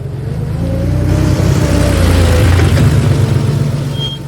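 Car engine rumbling steadily close by, easing down as the vehicle slows, a low continuous drone with no talking over it.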